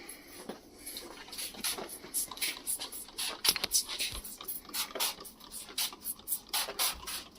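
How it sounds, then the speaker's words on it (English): Quick hissing bursts of a spray bottle spraying a window repeat in an uneven rhythm, close and moderately loud, with faint handling noises between squirts. "All right, let's spray this side."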